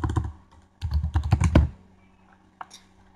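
Keys on a computer keyboard clack in a quick burst of several taps while a fastboot unlock command is typed, close and fairly loud, followed by a pause and a single later keystroke.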